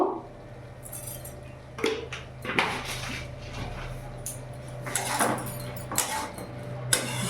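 Papaya and prawn curry being stirred in a cooking pan, with scattered scrapes and clinks of a utensil against the pan over a low steady hum, fairly faint.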